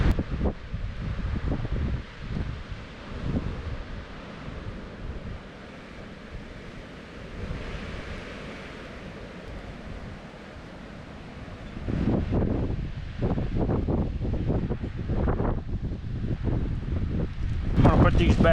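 Wind gusting outdoors while trees are planted, a steady broadband rush that swells louder in the last third, with rumbling buffets against the microphone.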